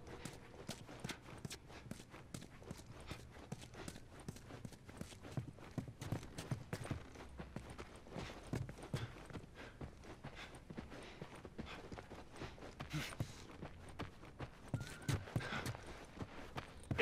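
Horses walk in The Last of Us video game, hooves clip-clopping in a steady, fairly faint rhythm that continues throughout with a brief whinny near the end.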